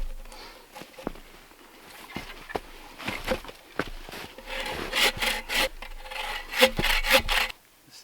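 Hand saw cutting stop cuts into a log notch for an off-grid log cabin, irregular rasping strokes that start sparse and grow into a faster steady rhythm, close and without talk.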